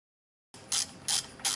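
A ratchet undoes bolts on the 2.4-liter engine of a 2007 Honda CR-V during a spark plug job, heard as three short, loud bursts of clicking spaced evenly apart after a moment of silence.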